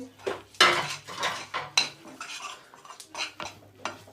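Green chilli, ginger and garlic are lightly roasted in a pan for a khasta kachori filling, heard mainly as a series of sharp metal spatula clanks and scrapes against the pan, close and irregular, with little sizzle.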